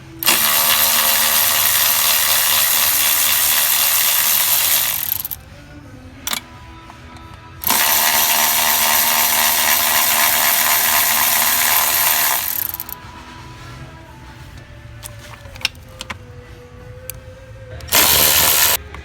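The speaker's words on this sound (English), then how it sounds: "we're gonna loosen up the 4 bolts to the actual fuel rail and pull that sucker off" A ratchet loosens the four 8mm fuel rail bolts on a Chevrolet Silverado during a knock sensor replacement. Three loud, close whirring bursts come in turn, the first two several seconds long and the last brief, with quiet clinks and shop noise between them and no voices.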